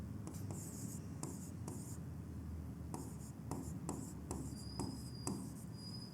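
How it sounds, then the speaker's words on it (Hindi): A pen scratches out a phone number by hand in short bursts of writing strokes separated by brief pauses, close and fairly quiet over a soft room hum. "मैं यहाँ लिख देता हूँ"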